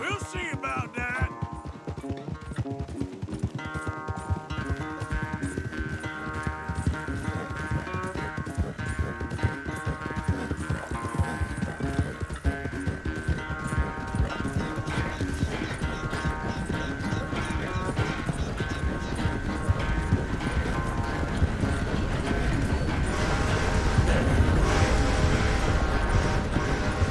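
In Red Dead Redemption 2, horses gallop during a race, with fast, steady clip-clop hoofbeats, a snort or whinny, and a music score rising underneath for the whole stretch.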